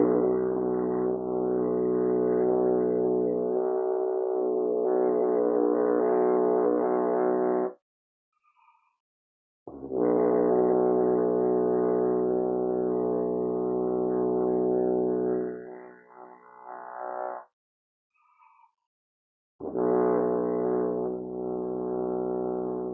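French horn sustaining low pedal tones in three long held notes, each several seconds, separated by short silences, rich and steady, played alone in a practice setting.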